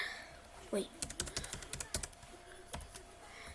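Keys clatter on a computer keyboard in a quick, close burst of clicks, followed by a few isolated taps, with a voice present briefly.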